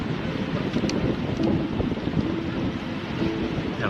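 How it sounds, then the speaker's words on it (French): Wind blows outdoors in Kazakhstan, a continuous rumbling gust buffeting the microphone with a few faint distant knocks and tones mixed in, steady throughout. "Là, il y a un petit vent qui s'installe"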